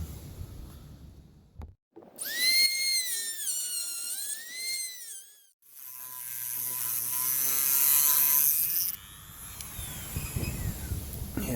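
A Dremel rotary tool whines at high speed while building a small furnace, its pitch sweeping up and down in loud, sustained bursts with a brief pause between runs, no talking over it.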